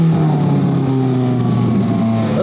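A 1300-horsepower Nissan GT-R engine pulls hard under acceleration from inside the moving car, a loud, steady droning roar with rising tone and no talk over it.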